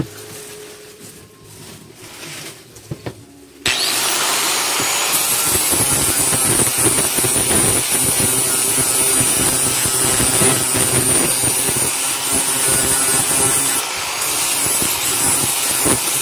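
An angle grinder disc cleans a knife handle during knife making, first quiet handling noises, then a sudden loud, sustained abrasive whine and grinding roar that runs steadily to the end, close up.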